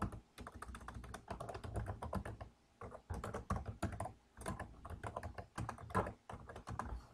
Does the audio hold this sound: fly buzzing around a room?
no